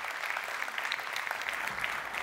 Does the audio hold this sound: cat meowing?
no